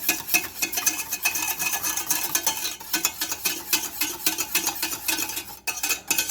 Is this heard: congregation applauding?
no